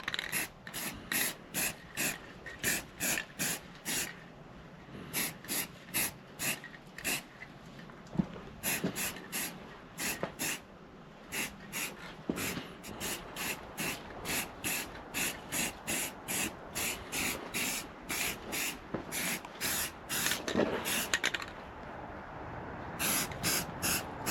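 Rust-Oleum high heat paint sprayed from an aerosol can onto a turbo pipe in a steady run of short, regular hissing bursts, close and fairly quiet, with a few longer pauses.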